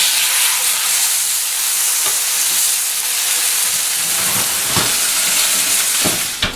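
Pork belly sizzles in a cast iron pan, a loud steady frying hiss filling the whole stretch, with a few sharper pops and crackles near the end and no talking.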